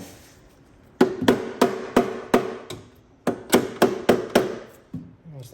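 A hammer strikes metal on a Porsche engine's timing chain guide rail, which sits out of the car. The sharp blows come in two quick bursts of about six hits each, close and ringing.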